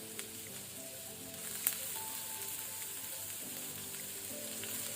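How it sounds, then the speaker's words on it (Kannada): Onions sizzle in hot oil in a pan while a radish stir-fry is being cooked, producing a steady, soft crackle with small pops and one sharp spike near the start, with no talk. "ಈಗ ಎಣ್ಣೆ ಬಿಸಿಯಾದ ನಂತರ ಅನಿಯನ್ ಈರುಳ್ಳಿಯನ್ನು ಹಾಕೊಳ್ಳುವ."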